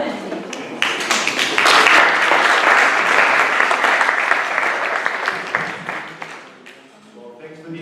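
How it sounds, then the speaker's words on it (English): Audience applause at a World Usability Day 2018 conference talk, a loud, dense clapping swell that rises quickly and holds, then fades into a speaking voice at the end. "Let's do another round of applause for all the other speakers today, too."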